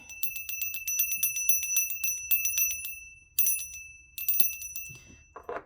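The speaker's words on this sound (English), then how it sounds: "I need to ring this bell really quick." A small bicycle-style bell rings repeatedly in quick bright bursts, close and clear, with pauses between groups of dings and no talking.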